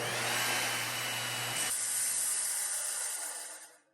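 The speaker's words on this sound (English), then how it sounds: "So we'll set our saw blade at 3/4 of an inch deep. We'll make a cut across it" A power saw with its blade set three-quarters of an inch deep cuts across a composite decking board, a loud, steady whine and rasp that shifts partway through the cut and then winds down at the end.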